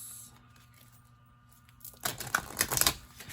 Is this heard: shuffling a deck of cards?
yes